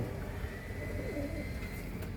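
Pigeons coo softly and steadily while they are fed a ground mix of maize, wheat and chickpeas, faint against low background noise.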